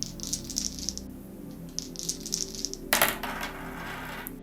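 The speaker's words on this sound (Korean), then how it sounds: "자, 그럼 별자리 주사위 타로 굴려볼게요." Astrology tarot dice rattle and tumble with light clicking taps, ending in a sharper clatter as they land, over a steady low background hum.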